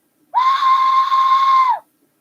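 A single homemade glued whistle blast sounds close and loud, a steady shrill tone held for about one and a half seconds, then silence.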